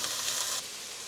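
Chicken and vegetables stir-frying in a pan make a steady, close sizzle that drops abruptly to a quieter hiss partway through.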